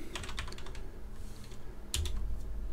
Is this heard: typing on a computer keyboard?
yes